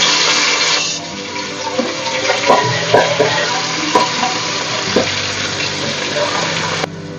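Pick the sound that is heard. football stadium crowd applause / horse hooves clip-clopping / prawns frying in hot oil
prawns frying in hot oil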